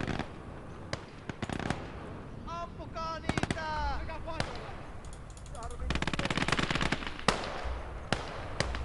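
Machine guns rattle in sharp, repeated bursts amid scattered single gunshots during a Winter War battle in the Call to Arms: Gates of Hell game, with shouted voices briefly heard over the firing.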